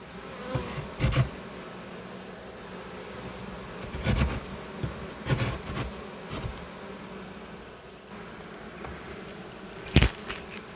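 Honey bees buzz steadily around a top bar hive at close range, punctuated by a few sharp knocks and clatters, with no voices.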